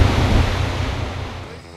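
Strong wind roars over the microphone alongside sea waves as a ship nears the Antarctic coast in Admiralty Bay, a loud, dense rush that fades slightly toward the end.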